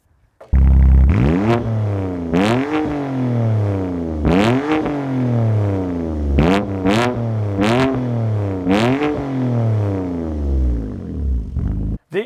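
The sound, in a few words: sports car engine revving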